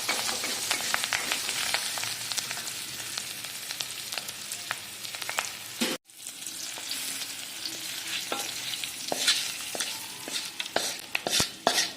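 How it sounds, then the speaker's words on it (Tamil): Brinjal and tomato sautéing in a pan for a Tamil kadayal, with a steady close sizzle, occasional sharp crackles and stirring scrapes throughout and a brief break midway. "நல்லா வதக்கிட்டு அந்த கத்திரிக்காய் தக்காளி கடைசல்ல போட்டு வேண்டியது."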